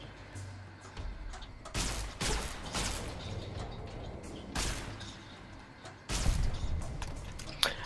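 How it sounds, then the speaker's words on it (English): Energy weapon fire in Fallout: New Vegas, several sharp, bright bursts spaced irregularly over a low game backdrop, fairly close and moderately loud. "I wish this gun shot even vaguely straight"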